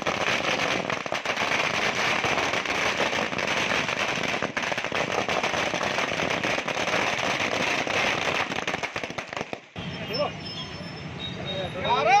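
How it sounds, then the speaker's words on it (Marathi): Firecrackers burst during a patriotic street celebration by political party workers in Akola, a dense continuous crackle of explosions running loud for about ten seconds before cutting off to quieter outdoor ambience. "लाडू वाटप आणि फटाक्यांची आतिषबाजी करत देशभक्तीचा जल्लोष साजरा केला"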